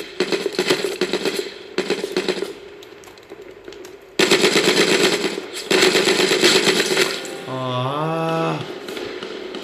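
Gunfire from the H1Z1 battle royale game played via Samsung DeX, with rapid automatic bursts in several loud clusters separated by short pauses, followed by a rising electronic game tone near the end.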